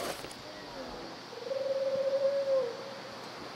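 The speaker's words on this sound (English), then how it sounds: "I thought I heard a bear and a bird. It's a wolf." Wolf howling in the survival game The Long Dark near a hydroelectric dam in snowy low visibility, a single sustained mournful howl of about a second rising and holding, moderately distant over faint wind.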